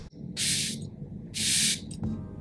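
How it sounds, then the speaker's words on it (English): Al Haramain Amber Oud Dubai Night perfume atomizer spraying twice, two crisp close hissing bursts about a second apart, each roughly half a second long, with no talking. "here's how it sprays"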